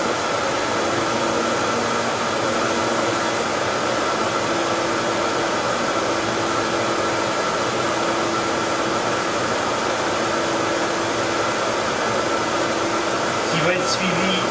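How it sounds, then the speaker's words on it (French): A laser cutter engraving cardboard in raster mode gives a steady, loud broadband whoosh of extraction airflow and machine hum, continuous and unchanging throughout. "Actuellement, la machine grave en balayage, donc en mode raster"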